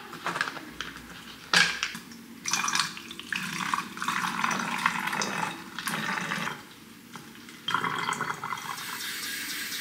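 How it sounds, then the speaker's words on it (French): Tap water runs from a faucet into a small plastic spray bottle, a soft, uneven trickle and splashing broken by clicks and handling noises, heard up close but at low volume. "il y a juste l'eau que évidemment je vais sortir directement du robinet"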